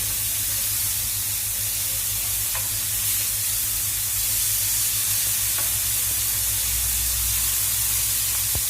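Beef slices frying in a pan on the stove as they are turned, a loud continuous sizzle and hiss with a few faint clinks, no speech.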